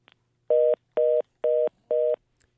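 Four evenly spaced telephone keypad tones sound during a live show's phone troubles, clean, loud and alone, each beep about a quarter second long with short gaps between them.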